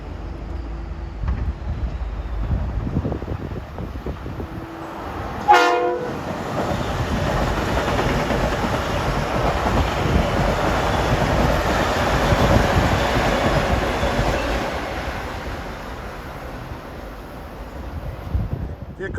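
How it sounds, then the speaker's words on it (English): A New York to New Haven local train passes Mamaroneck station without stopping. A brief horn blast comes first, then a loud, sustained roar of wheels and rushing air as the cars go by close to the microphone. "next up at 451 is train 1544. It's a New York to New Haven local,"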